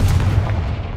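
A Confringo blasting spell exploding in the Hogwarts Legacy video game, one short heavy boom with a deep rumbling body that fades quickly, close and loud.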